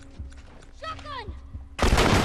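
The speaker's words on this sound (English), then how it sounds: "Shotgun!" A shotgun blast in The Last of Us, a single loud burst of gunfire arriving near the end after game sounds and a brief vocal cry.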